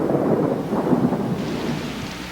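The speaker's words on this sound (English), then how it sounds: "Out of nowhere, a fierce late summer electrical storm blew in and washed out any hopes of playing this game." A fierce late-summer electrical thunderstorm over Lane Stadium: a heavy, continuous roar of rain with deep rumbling thunder that fades slightly toward the end, with no voices.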